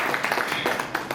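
Audience clapping at a women's honour event, a short burst of scattered hand claps from a crowd, fairly close and loud, with no voices over it.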